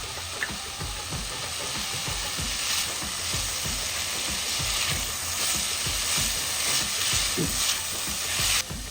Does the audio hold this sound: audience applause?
no